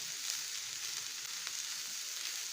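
Food sautéing in oil over a high flame gives a steady close sizzle, a bright continuous hiss with small crackles scattered through it, no voices.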